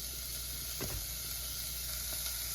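Soft, constant sizzle of olive oil heating in a frying pan, faint and close, with a brief clatter near the start and no voices.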